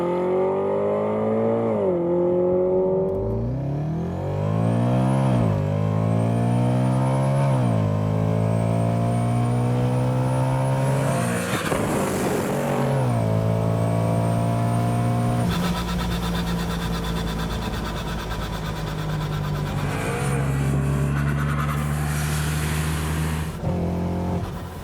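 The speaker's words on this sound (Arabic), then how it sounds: "اسمع الطرب يا الحبيب، اصوات البرو تشارج" BMW M3 G-Power with a 750 hp supercharged 4.6-litre engine revs hard, its pitch rising and falling through repeated loud blips and sustained high-rpm pulls with a whining supercharger, close by and without talk.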